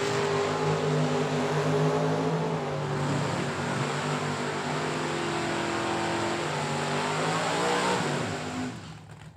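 A Chevrolet Camaro drag race car launches and accelerates hard at a drag strip, its loud engine roaring steadily for several seconds before the sound begins to fade.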